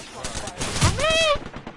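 Gunfire rattles in the Fortnite video game as a quick burst of shots mixed with a voice talking over it, all in under two seconds.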